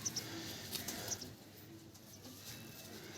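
Faint cooing from a Giribaz pigeon over a soft hiss, with light chirp-like bird notes early on; no talking.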